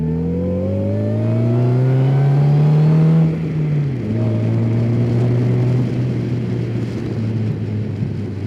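A DF Goblin kit car engine revving up under acceleration while driving, the pitch climbing steadily, then dropping at a gear change and pulling again, loud and close.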